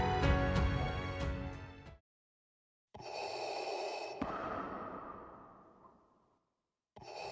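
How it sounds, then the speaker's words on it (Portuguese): Darth Vader's mechanical respirator breathing from Star Wars, loud and close: a long rasping inhale, a pause, then a drawn-out exhale that fades to silence before the next breath begins. "Anakin ganha uma armadura que o ajuda a ter movimentos novamente, uma icônica respiração"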